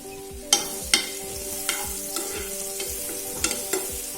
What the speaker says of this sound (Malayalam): ചെറുതായിട്ട് അരിഞ്ഞ ഒരു ചെറിയ കഷ്ണം നേന്ത്രപ്പഴം ഞാൻ വറുത്തെടുക്കുവാണ്